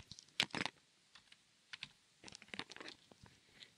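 Computer keyboard typing during accounting software data entry: scattered quick keystroke clicks and short bursts of taps, close and fairly quiet, with brief pauses between groups and no speech.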